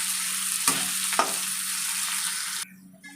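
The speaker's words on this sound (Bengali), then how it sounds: "এই পেঁয়াজগুলোকে আমি লাল লাল করে ভেজে নেব" Chopped onions and chillies sizzle steadily in hot oil for a Bengali okra-in-mustard curry, close and loud, with two sharp stir clacks before the frying suddenly cuts off near the end.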